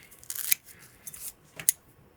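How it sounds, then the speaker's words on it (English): Scissors snip the hair tips off a Zoo Cougar sculpin streamer fly being tied, giving a few quick, crisp cuts: a cluster early on, another around the middle and a sharp single snip near the end, close and fairly quiet. "I'm going to cut the tips off just so they don't sort of confuse me when I go to trim this head."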